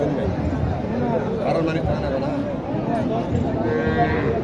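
At a busy cattle market in Naogaon, where local cows and Sahiwal calves are sold, a cow lows briefly near the end under dense crowd babble and close conversation.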